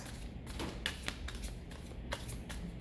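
Tarot cards shuffled by hand in quick riffled bursts, several crisp flutters and taps in close succession, near and fairly quiet, with no talking.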